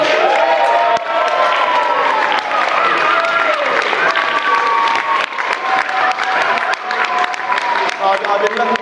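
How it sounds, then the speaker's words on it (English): Wedding guests applauding the MC at a farm wedding reception, a loud sustained round of clapping with cheers and voices mixed in, lasting around nine seconds. "Can we give him a round of applause"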